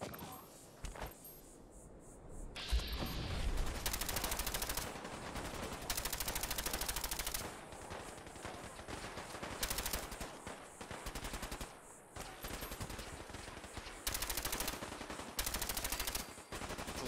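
Gunner enemies shooting in Fallout 4: repeated bursts of automatic gunfire come and go over several seconds, some close and sharp, others quieter between them.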